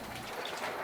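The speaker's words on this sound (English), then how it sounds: "thundering, hear it?" Rain falling at night during a thunderstorm, a steady soft hiss of drops with a low rumble underneath, faint and continuous with no voices.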